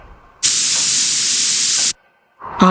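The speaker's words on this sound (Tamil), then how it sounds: "பாட்டிலில் இருந்த ஸ்ப்ரே ஆகிற ஓட்டையை சிலிண்டர் இடுக்குக்குள்ளார வச்ச ஆதிரா உள்ளே எட்டி பார்த்த செலியின் கண்ணிலேயே ஸ்ப்ரே பண்ணும்" One steady spray from a bottle, a hiss lasting about a second and a half, close and loud, followed by a short sharp sound.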